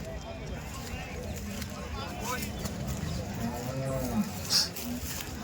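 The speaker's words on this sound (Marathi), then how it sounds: "या ठिकाणी गाई बाजार चांगला आहे" A busy outdoor cow market in Chalisgaon with a cow lowing briefly amid a crowd's murmur and distant voices, with occasional sharp knocks.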